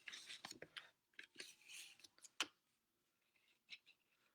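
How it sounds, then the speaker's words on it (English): A series of short, crisp scissor snips and rustles through paper, close and fairly quiet, with brief pauses between bursts of cutting. "Grab my handy scissors"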